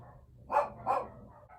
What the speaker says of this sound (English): I apologize for my barking dogs.